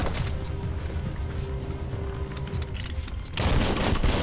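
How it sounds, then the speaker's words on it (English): Sustained gunfire in the video game Biomutant rattles on in dense, rapid bursts, loud and close, growing heavier near the end, with no talk. "Bullets everywhere."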